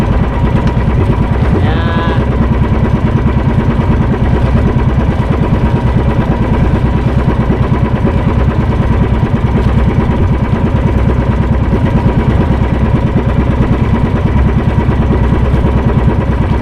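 A motorcycle engine runs steadily and loudly throughout, a continuous close mechanical drone with a slight clatter and no clear change in pace.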